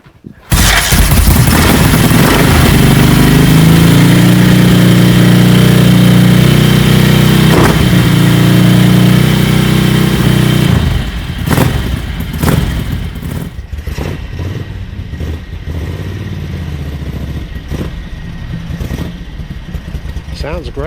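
A restored Ducati 900SS bevel-drive motorcycle engine fires up and idles loudly and close, a deep steady rumble for about ten seconds before easing to a quieter, uneven idle with a few sharp blips.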